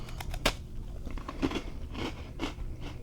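A huge crunchy cookie is bitten and chewed up close, giving several sharp crunches followed by softer chewing crackles, quiet and without talk.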